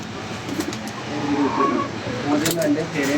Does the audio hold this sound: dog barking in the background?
no